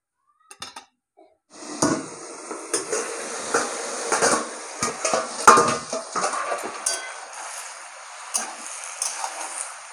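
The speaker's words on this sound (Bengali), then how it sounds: "এখন তেলে দিয়ে ভালো করে এখন নাড়াচাড়া করবো" Bottle gourd, spinach, brinjal and lentil dumplings stirred in hot oil in a pan, giving repeated scraping and clinking of a utensil against metal with a faint sizzle, close and steady after a short quiet start.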